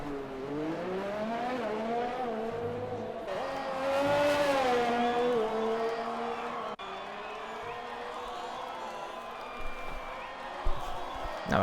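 F1 race cars in a racing video game head out on an outlap of the Vietnam Grand Prix circuit, with engines whining and shifting pitch continuously as they accelerate, loud and close, with a brief tire squeal.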